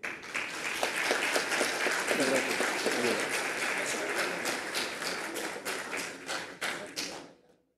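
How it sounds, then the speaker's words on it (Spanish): A crowd at a political event applauds with dense, steady clapping that thins into scattered claps before stopping abruptly. "Yo pido para ellos un fuerte aplauso."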